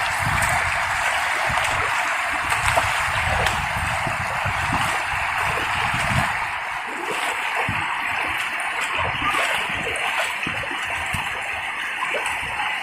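A river stream in Central Aceh, being blocked to trap fish, rushes and gurgles steadily, close and continuous, with occasional splashes.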